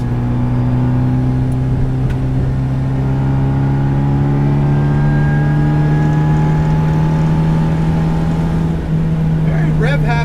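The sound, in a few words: supercharged 1967 MGB GT 1.8 engine accelerating, aftermarket exhaust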